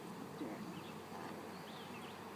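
Faint, close insect buzzing of bees confined in a jar, a thin wavering drone with small pitch swoops as they move, quiet and continuous with no talk.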